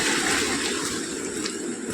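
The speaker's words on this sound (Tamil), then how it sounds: "ஏதோ சவுண்டு படபடன்னு கேட்குது. இந்த பக்கத்தில் ஓடையா என்னன்னு தெரில." A small mountain stream near Manali, in snowy trekking country, rushes and gurgles close by in a constant, full-bodied flow with no talking.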